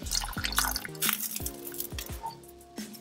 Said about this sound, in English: To this, let's add the coconut and yogurt mixture.